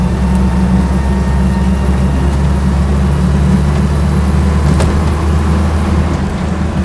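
Land Rover Lightweight under way, a steady loud engine drone with low rumble and continuous tyre roar, heard from close inside or beside the vehicle with no talk.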